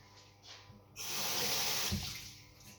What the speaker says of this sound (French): mon oignon entier, je vais le rincer